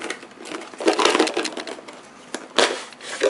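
Crinkly crackling and tearing of packaging being peeled open on a GoPro Hero 8 Black box, in close, uneven bursts with short pauses between.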